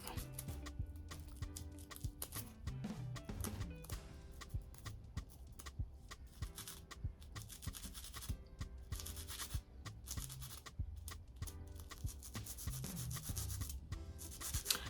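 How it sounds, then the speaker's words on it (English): Synthetic wig hair being scraped with a blade in a filing motion, a steady close rasping and rubbing that runs continuously without pause and with no voices. "So scraping works better, like you're filing it."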